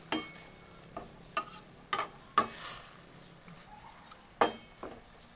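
Grasshoppers boiling in a pan are stirred with a utensil, giving sharp scattered clinks and scrapes every second or so over a faint bubbling simmer.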